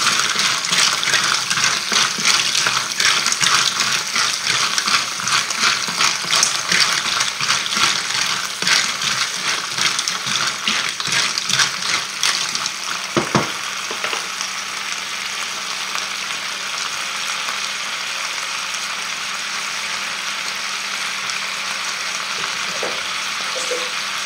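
Mussels stirred in a pot for moules au Roquefort, a steady loud sizzling and bubbling wash with scraping movement for about twelve seconds, then settling to a quieter simmer with a few faint clinks.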